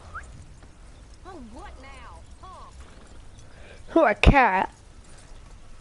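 Horse hooves clip-clopping in Red Dead Redemption 2, soft and steady in the background while someone speaks over them, with a brief louder burst of sound near the end.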